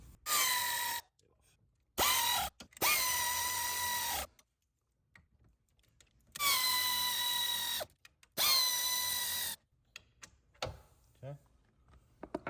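Power drill or driver threading bolts into a power recliner sofa mechanism, four loud whirring bursts of a second or two each separated by pauses, followed by faint handling clicks.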